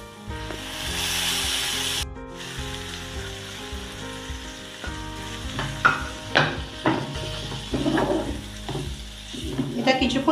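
Tomato tipped into a pan of lightly fried onion and garlic, sizzling steadily while a spoon scrapes and stirs with uneven knocks and rubs, no talking.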